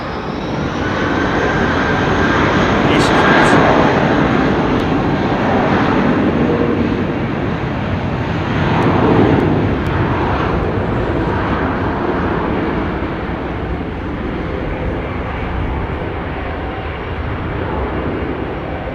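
Jet engines of a Boeing 787 Dreamliner at London Heathrow Airport give a loud, continuous broadband roar that swells and eases slightly, heard alone without speech.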